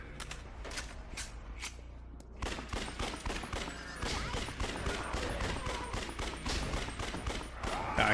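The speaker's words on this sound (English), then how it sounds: "Thank God pistols have infinite ammo" Rapid pistol gunfire in the zombie action game Yakuza Dead Souls, sharp shots fired in quick rhythmic bursts that grow denser and louder after a short pause, with scattered impacts and a few footsteps.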